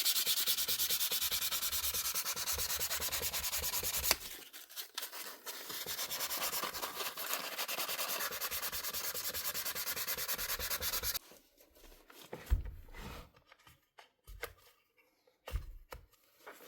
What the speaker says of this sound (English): All I'm doing is picking off a little burr.